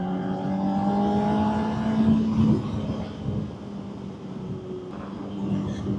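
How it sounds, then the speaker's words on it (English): A 2024 Honda CBR600RR motorcycle with its standard exhaust runs close by, a deep, throaty exhaust note that climbs in pitch, then settles into a steady rumble. "sounds fantastic for a standard exhaust"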